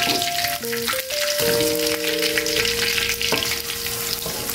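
Shrimp paste and pounded spice paste sizzle steadily in a pan for nasi goreng, a dense continuous frying crackle with stirring throughout, close and loud with no talk.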